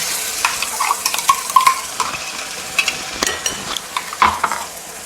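Ground onion and coconut paste sizzles in a pan for chicken curry while a spoon stirs and scrapes, the steady frying hiss broken by repeated close clinks and scrapes, no talking.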